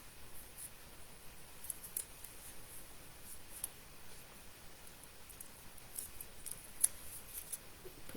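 Scissors snip through craft ribbon on a handmade pop-up box card ornament, giving a few faint, scattered crisp cuts over a quiet hiss.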